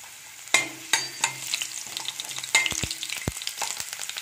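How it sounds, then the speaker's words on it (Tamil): Garlic frying in hot oil for temple-style puliyodharai, a steady close crackling sizzle broken by sharp scrapes and clacks of a spoon stirring against the pan, with no voices. "பூண்டு ஆட் பண்ணி நல்லா ஃப்ரை பண்ணிக்கோங்க"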